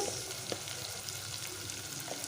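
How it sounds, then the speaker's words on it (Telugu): Ginger garlic paste frying in a pan for chicken fry piece biryani, giving a soft, steady sizzle with faint occasional stirring, quiet and close, with no voices. "పచ్చివాసన పోయేంత వరకు ఫ్రై చేసుకోవాలండి అల్లం వెల్లుల్లి పేస్ట్ అయితే ఫ్రై అయిపోయిందండి"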